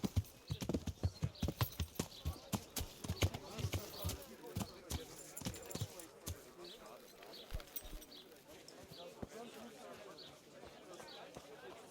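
Hooves clopping in a steady trotting rhythm in the video game Kingdom Come: Deliverance, loud and close at first, then fading into softer, busier background noise.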